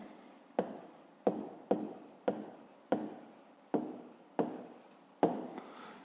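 Pen writing an answer to a fifth-grade maths exercise on paper, a series of about nine distinct scratchy strokes in a steady rhythm, close and fairly quiet, with no talk.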